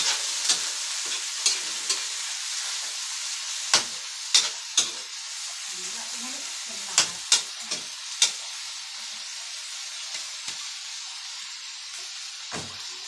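Hot oil sizzling steadily with shrimp in the pan, broken by sharp pops and spatters in irregular bursts, some in quick clusters, loud and close with no voices.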